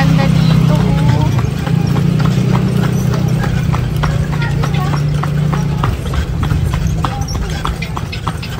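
Horse hooves clip-clop steadily on a road in Ilocos Norte, a regular close rhythm running throughout, with an engine hum underneath.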